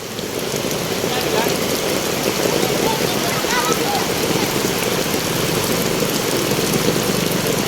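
Steady, dense rain pours onto a flooded street on Republic Avenue in Quezon City, a loud continuous hiss and patter with no break.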